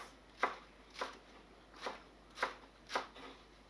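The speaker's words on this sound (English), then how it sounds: "I'm going to chop some of the toppings" Knife chopping toppings on a cutting board for Filipino pancit lomi chicken noodle soup: five sharp, separate chops spaced about half a second apart, fairly close, with no talking.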